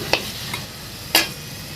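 A semolina, coconut, sugar and milk filling for gujiya fries in a pan while being stirred, giving a steady low sizzle with a few sharp spoon scrapes.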